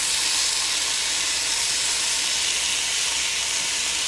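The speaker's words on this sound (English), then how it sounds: "all I'm doing is kind of scraping the bottom of the pan" Pork shoulder chashu and noodles sizzle loudly in a hot pan for quick ramen, a steady hissing fry with a spatula scraping along the pan bottom.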